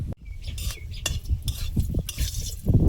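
Beans are stirred as they fry in a pan in a home kitchen, with repeated close scraping and clinking strokes of a utensil over a low sizzle, and no voices.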